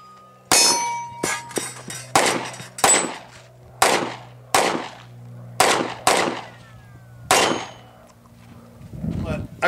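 Sharp gunshots ring out one at a time during a shooting movement drill, about a dozen loud cracks spaced irregularly with short pauses between them, each followed by a metallic ring, close and alone.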